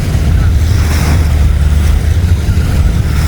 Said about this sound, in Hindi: ये जी समुंदर की लहरें